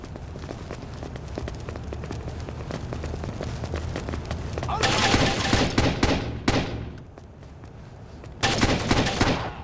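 Gunfire in Rainbow Six 3: Athena Sword: rapid automatic bursts crackle loud and close, swelling into dense volleys with short pauses between.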